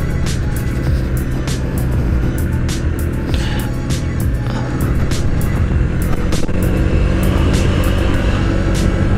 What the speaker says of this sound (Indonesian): Tuh ada truk di sini